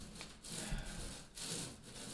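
A paint roller spreads epoxy over a plywood boat hull, making a faint, close rhythmic rubbing swish that repeats in steady back-and-forth strokes.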